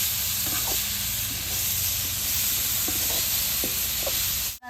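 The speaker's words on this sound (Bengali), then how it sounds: "এভাবে নাইকলটা সুন্দর করে ভাইজা নেবো।" Grated coconut sizzles and fries in a pan for Bengali puli pitha, a loud continuous hiss broken by a few light scraping stirs before it cuts off.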